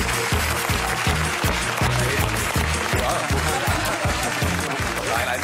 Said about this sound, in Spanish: Os pido un fortísimo aplauso para Benedict